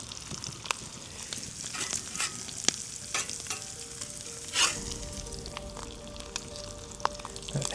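Double cheeseburger patties sizzle and fry steadily on a camp stove in a four-wheel camper during winter, a continuous close crackle with occasional sharper pops and light scraping clicks, no talking.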